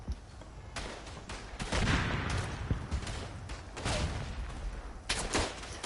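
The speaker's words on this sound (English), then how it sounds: "That's my own artillery." Artillery fire in the World War I game Verdun, repeated heavy booms and rumbling blasts across a dense battlefield din, several loud impacts spaced irregularly with no talking.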